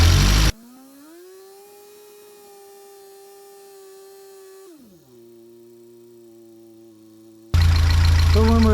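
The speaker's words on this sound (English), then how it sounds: "we're going to rev it all the way up" A Fiat 124 Spider 2000 engine revs up and holds a steady, loud high-rpm drone for several seconds, then drops back toward idle, with brief bursts of other noise at the start and end.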